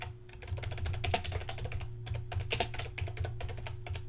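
Rapid typing on a computer keyboard, a close, continuous patter of key clicks with slight pauses, alone without voices.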